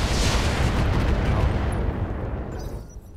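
Mech weapons fire striking a target in the video game Roguetech, a loud roaring explosive burst that rumbles for a couple of seconds and then fades away.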